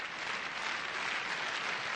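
Gymnastics arena crowd at the 1989 World Championships applauding after a floor exercise routine, hoping for a 10, a dense, sustained wash of clapping heard from within the hall, steady and loud throughout.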